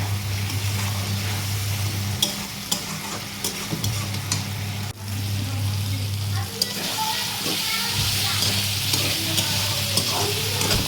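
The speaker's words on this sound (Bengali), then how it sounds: "কষানো হচ্ছে।" Spices with salt being sautéed for katla fish curry: an ongoing sizzle with sharp scraping and clinking of a spoon against the pan, close by, over an intermittent low droning hum.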